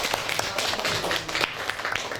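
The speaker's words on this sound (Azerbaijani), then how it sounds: "Aferin, alqışlayan" Scattered clapping from a third-grade classroom during an open lesson, a steady patter of hands running throughout at moderate volume, fairly close.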